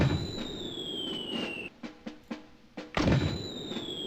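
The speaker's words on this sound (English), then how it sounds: "A mortar. No more kidding around." A mortar fires in the Army Men video game, a quick run of hollow, muffled thumps over a steady electronic tone, without any voices.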